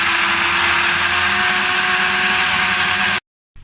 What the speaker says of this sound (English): Gonna drill a starter hole right on this edge